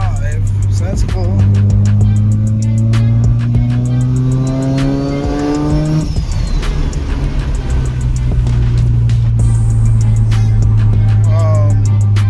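A Mazda RX-7 FD with a turbocharged engine revs loudly and climbs steadily in pitch, then drops off and settles into a sustained drone, with faint tire squeal and a voice speaking briefly over it.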